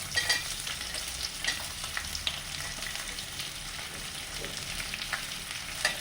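Two sliced onions fry with softened ginger and garlic in a pan for chicken roast. A soft, continuous sizzle runs throughout, with intermittent stirring scrapes.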